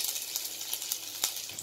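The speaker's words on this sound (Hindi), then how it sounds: "जीरा को थोड़ा क्रेकल्स होने देंगे" Cumin seeds, grated ginger and chopped green chilli sizzling in hot oil for a dhaba-style dal tadka, a soft continuous crackle with a few sharper pops.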